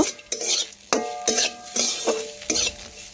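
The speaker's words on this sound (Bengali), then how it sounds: "এখন আমি নাড়াচাড়া করে একসাথে মিশিয়ে নেব" Fried pointed gourd and bitter gourd being stirred together in a pan, a utensil scraping and clinking against the metal in repeated strokes, close and distinct, with a light sizzle underneath.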